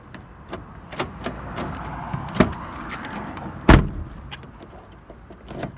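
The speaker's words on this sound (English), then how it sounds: "Just open and close your doors." Doors of a VW T5 van being opened and shut with a fresh key, giving several sharp thuds and clunks, the heaviest near the end, over a low background rumble with faint jingling.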